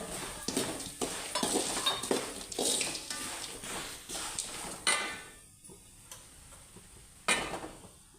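Homemade red chili powder stirred into a spiced mix for kara avalakki, a flattened rice snack, with repeated scraping and clinking of a spoon against a pot, close and fairly soft, with no talk.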